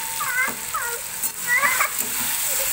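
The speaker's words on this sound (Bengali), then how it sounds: "আমি দেখো আলু কষাচ্ছি, আলু কষলি মশলা দিয়ে" Potatoes fried with spices in oil, a steady sizzle running throughout with a few scraping stirs, close by; a voice speaks briefly over it.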